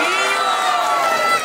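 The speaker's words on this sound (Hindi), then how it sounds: "महाराज जी के लिए जोर से ताली बजाओ जयकार बोल के" Crowd at a Bhagwat katha religious gathering in Noida cheering and shouting loudly in sustained unison, a dense wall of voices with no pauses.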